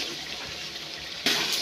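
Water splashes into spices being stir-fried in a pan, a sudden loud hiss and sizzle bursting in after a steady frying crackle.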